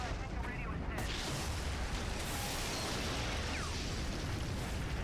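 Missile launcher blasts and explosions from the game Prototype erupt in a dense, continuous roar of booming detonations and rumbling debris, loud and sustained across the whole stretch.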